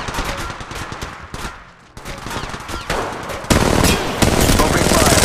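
Rapid bursts of automatic gunfire in the mobile shooter Apex Legends Mobile, dense and loud, with a game voice speaking briefly in the mix and the firing growing heavier toward the end.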